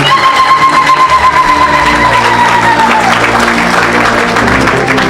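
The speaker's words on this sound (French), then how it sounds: "donne une grande acclamation à Jésus" Loud, sustained audience applause and cheering acclaiming Jesus at a gathering, a tone fading out partway through as the crowd noise swells and continues.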